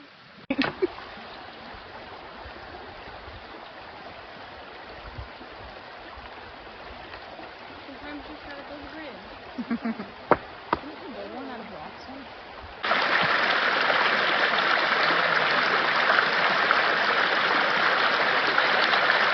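Steady rush of Leatherneck Creek water near Ponca, Arkansas, softer at first and then louder and fuller near the end, with a few splashes and voices faintly in the background.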